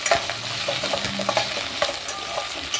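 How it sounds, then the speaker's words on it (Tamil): Brinjal and okra fry in oil in a pan, making a bright steady sizzle with a few quick stirring scrapes, close and moderately loud over a brief stretch. "கத்திரிக்காயை போடுறேன் அதே சமயத்தில் வெண்டைக்காயும் ஆட் பண்ணுவேன் ஆட் பண்ணிட்டு வந்து நல்ல ஃப்ரை பண்ணுங்கள் ஒரு அஞ்சு நிமிஷம் நல்ல ஃப்ரை பண்ணுறேன்"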